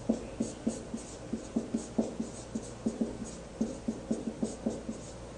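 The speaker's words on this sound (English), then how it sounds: "So let's write that down." Handwritten notes are being put down with a pen or marker on paper as a steady run of short, crisp scratching strokes and taps in quick uneven rhythm, close and fairly quiet, with no talk.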